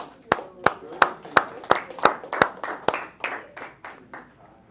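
Students in a calculus classroom give a short round of applause: a handful of sharp, separate claps in uneven rhythm, tapering off after about four seconds.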